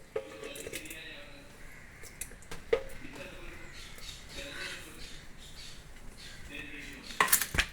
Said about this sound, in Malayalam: ആദ്യം അരിഞ്ഞ് മാങ്ങ ഇടാം.